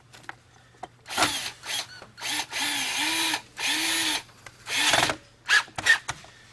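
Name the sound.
power drill driving screw into Kirby vacuum cleaner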